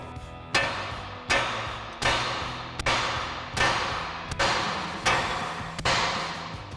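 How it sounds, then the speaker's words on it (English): Repeated sharp metallic hammer strikes on a steel steering knuckle of a 2020s Silverado 2500 pickup, unseating a tie rod end, about seven blows in a steady rhythm, each ringing briefly before the next, close and fairly loud. "we're gonna give our knuckle a few taps with our hammer to unseat our tie rod"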